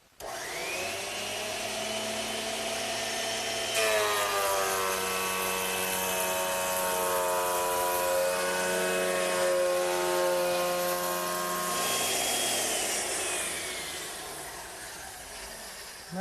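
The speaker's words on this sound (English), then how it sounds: "I'm using my thickness planer" A thickness planer feeds wood blanks for a Mission-style sofa through its cutterhead, a loud steady whine with shifting tonal harmonics as each blank passes, running continuously and alone before winding down at the end.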